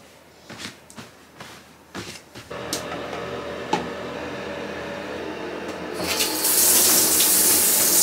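Tap water runs steadily into a sink while bikinis and swimsuits are hand-washed with shower gel, a continuous close splashing that grows louder and brighter toward the end.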